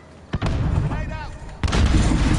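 A grenade goes off in a PS4 shooter: a sharp broadband blast, then a second heavy boom moments later, both loud and close, with rumbling tails amid gunfire-like cracks and a voice calling out beneath.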